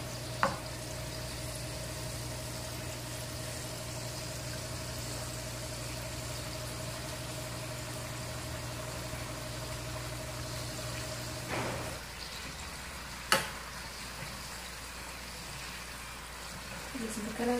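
Pastel dough fries in very hot oil, a continuous soft sizzle and crackle under a steady hum, with a couple of sharp clinks and a shift in texture partway through.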